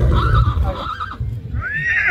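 A horse at the Balotra horse market, part of the Tilwada livestock fair, gives a loud, close whinny that rises and falls for about two seconds, ending in a brighter rising squeal.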